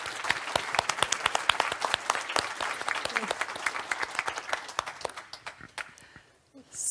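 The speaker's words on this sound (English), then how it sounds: "a round of applause for this amazing panel." Lively audience applause for a panel at a circular economy forum, with many sharp individual claps close by over a dense crowd wash that gradually thins and dies away.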